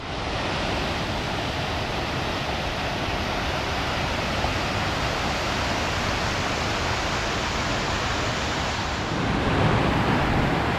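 A swollen, impassable river on the Appalachian Trail rushes in a dense, steady roar, with an unbroken broadband wash that swells slightly louder near the end.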